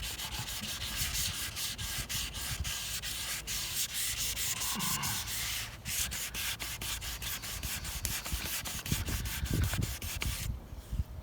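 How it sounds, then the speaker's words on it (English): A guitar body coated with paint and guide coat is sanded by hand in steady, rhythmic strokes, a close, continuous rasping scrub that runs the whole time with short gaps between passes. "There's a ton of material on here, so we're gonna be able to sand that out."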